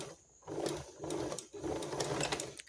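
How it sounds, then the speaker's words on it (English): A sewing machine stitches straight across fabric while making an elastic single-layer food bowl cover, running in two steady, close bursts with a short pause between them. "you want to just pop it on top and sew straight over it"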